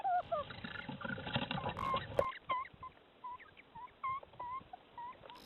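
A pair of tawny owls calls near a nest box, with short rising and falling hoots and whistled contact notes repeated at irregular intervals over a broad bed of background noise, with one sharp thump midway.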